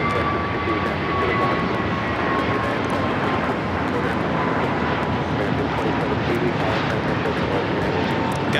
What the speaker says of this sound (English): R2 next takeoff here on the south side